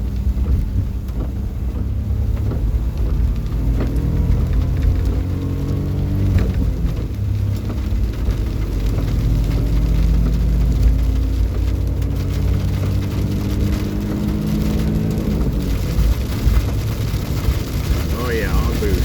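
A Daihatsu turbo van pulls hard on boost in the rain, its engine drone rising in pitch under a constant patter of raindrops, with a voice speaking over the noise.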